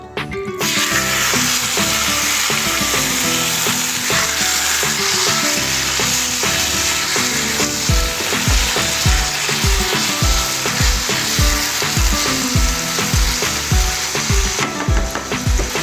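Chicken tikka meat frying in hot mustard oil in a pan, giving a loud, close, continuous sizzle with rhythmic stirring knocks in the later part and no speech.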